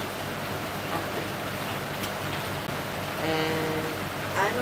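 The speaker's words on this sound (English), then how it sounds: "So much rain?" Heavy rain falls in Romania as a continuous, dense, even hiss that stays loud throughout, with no speech.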